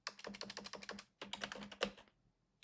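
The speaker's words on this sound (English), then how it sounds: "Sorry for the loud keyboard noise" Rapid bursts of computer keyboard typing, clattering keystrokes in two quick runs separated by a short pause, close and crisp, ending in near silence.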